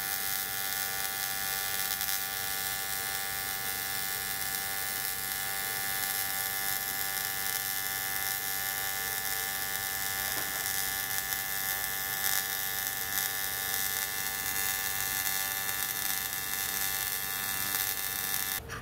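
Aluminum welding at 85 amps, a steady close electrical buzz and hiss that holds unbroken for nearly twenty seconds with no voices.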